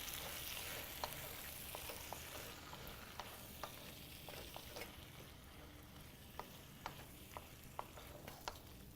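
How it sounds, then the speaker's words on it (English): Water on a stove during a home cooking show, heard as a steady broadband hiss and bubbling roil with scattered small pops and clicks throughout, moderately quiet and without talk. "I can see that my water is boiling"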